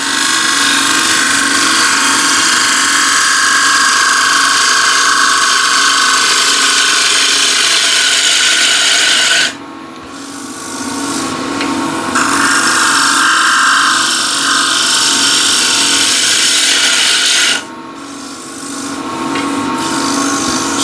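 Steady scraping hiss of a sharp, freshly honed gouge cutting a spinning wooden bowl on a lathe, loud and continuous, with two brief pauses where the cut lifts off before resuming.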